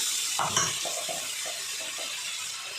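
Crushed peanut powder being stirred into a cowpea curry in a pan: soft scraping strokes of a spoon on the pan over a steady sizzling hiss from the cooking vegetables, with no voices.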